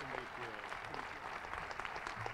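Steady applause from a crowd at a high school graduation ceremony, dense clapping throughout at a moderate distance, with a voice faintly audible beneath it.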